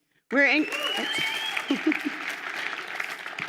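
An audience at a business plan competition bursts into applause that starts abruptly and stays sustained, while a voice talks over the clapping.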